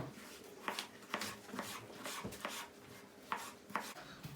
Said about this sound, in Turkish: İşimize patatesleri doğrayarak başlayacağız.